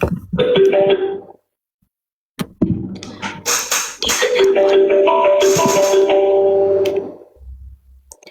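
A phone rings with an incoming call, giving a bright repeating melodic ringtone that pauses briefly and then resumes loud and close.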